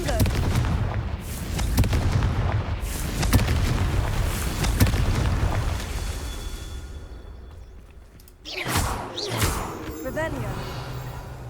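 Booming explosions from the Confringo fire spell in the Hogwarts Legacy video game, loud and sustained with repeated heavy blasts, a lull, then a fresh burst of detonations near the end, with a voice also present.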